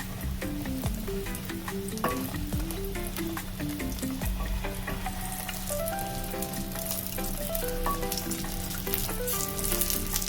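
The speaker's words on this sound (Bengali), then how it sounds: "এবারে বড়িটা আমি দিয়ে দিলাম, দিয়ে আমি একটু ভালো করে ভেজে নেব।" Lentil dumplings (bori) crackle in hot oil, a close, steady sizzle with dense popping and spattering, while a faint melodic tune plays quietly in the background.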